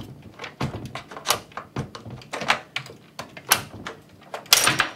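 Prying the sprocket cover off a chainsaw with its brake locked: a series of sharp clicks, knocks and scraping thunks come in irregular bursts, close and fairly loud, with no talking.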